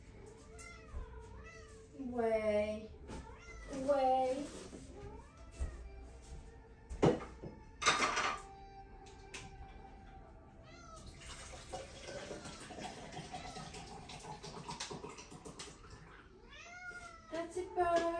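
A pet cat meowing indoors near running water, several distinct close meows spread across the stretch, some drawn out and rising, with a tap running and someone speaking briefly between them.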